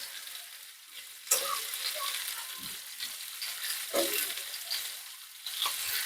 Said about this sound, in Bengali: এদিকে মাছটা ভাজা হচ্ছে